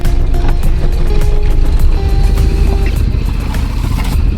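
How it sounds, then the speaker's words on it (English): A boat's inboard engine drones steadily and close as it pushes the vessel off a mooring ball in the Caribbean, a continuous low rumble with water and hull noise and no talking. "We have steering and we have engine. And so let's see if we have propulsion."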